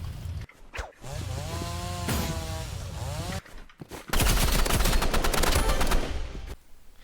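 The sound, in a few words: chainsaw in a video game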